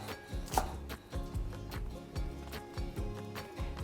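Green onions being chopped with a knife on a cutting board, a steady run of sharp, close knocks with a brief pause partway, heard alone.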